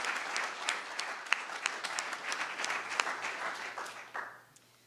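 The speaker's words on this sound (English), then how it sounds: "So please give our sponsors a big round of applause." An audience at a college business venture competition claps steadily for several seconds with sharp individual claps, then the applause tapers off and fades out.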